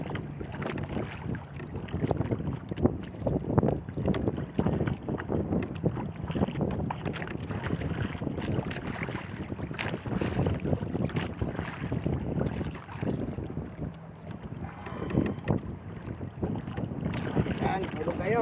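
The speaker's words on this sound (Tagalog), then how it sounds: "Medyo malakas-lakas pa yung hangin at saka maalon." Strong wind buffets the microphone on a small fishing boat at sea as choppy waves slap the hull, a steady rushing bed of noise with someone speaking over it.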